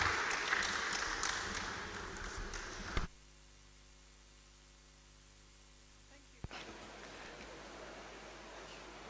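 Audience applause for a panel at a digital technology conference: a burst of clapping that cuts abruptly to near silence for a few seconds before a softer, noisy wash of clapping resumes.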